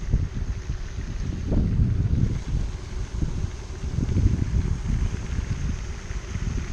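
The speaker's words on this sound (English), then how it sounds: "I've got a pretty good wind coming at me from this side" Wind buffets the microphone in low, gusty rumbles over open water beside a kayak, steady and close, with faint lapping underneath.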